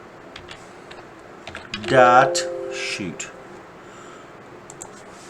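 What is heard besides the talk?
typing on a computer keyboard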